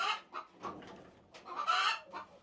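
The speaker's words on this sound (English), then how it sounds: "And also any chicken that needs to move, such as Loki and Sylvie," Backyard chickens, including bantams, cluck in a string of short, uneven calls, fairly close and with no talking.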